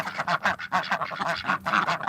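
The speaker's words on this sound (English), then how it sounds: "we've got our ducks who are quacking, which means they probably need water" Silver harlequin ducks in a garden quacking in a rapid series of repeated calls, fairly close and loud, with no talk over them.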